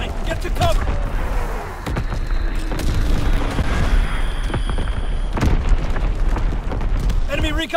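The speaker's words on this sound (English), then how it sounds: "Incoming enemy artillery! Get to cover! Enemy bomb incoming! Get to cover!" Enemy bombs and artillery explode in a war video game, heavy rumbling booms and blasts rolling continuously, with voices calling out over the noise.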